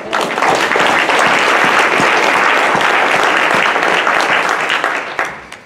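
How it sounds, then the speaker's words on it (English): An audience at a school board of education business meeting applauds, a dense, sustained clapping from a full room that holds steady for several seconds before quickly dying away. "a round of applause for them."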